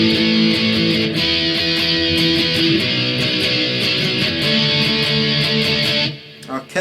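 Distorted electric guitar plays a chorus riff of chugging power chords with steady rhythmic strums, loud and alone, ending with a brief pause near the close.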